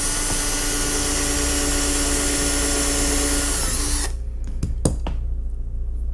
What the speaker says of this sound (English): I like to drill the small hole first.